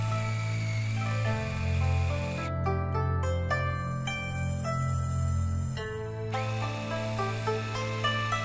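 A power tool drives a bolt into a homemade pull-up bar, a steady buzzing whir that runs for several seconds with shifting pitch and brief changes in load, close and fairly loud, with no talking.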